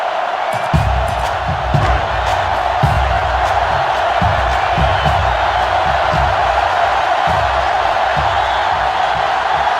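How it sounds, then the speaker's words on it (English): A packed college football stadium crowd in the NCAA Football 2005 video game, Florida State versus Miami, roars continuously and loudly, with rhythmic swells of chanting and cheering and no speech. "Trying to make it hard to hear, and the defense urging the crowd to get to their feet."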